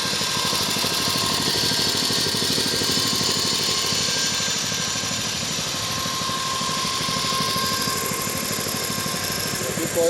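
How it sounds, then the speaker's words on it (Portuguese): A small gasoline outboard motor on a boat runs steadily up close, a continuous buzzing drone that barely changes, with a voice briefly speaking over it. "Esse motorzinho dele, do barco."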